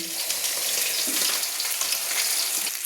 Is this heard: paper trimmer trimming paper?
no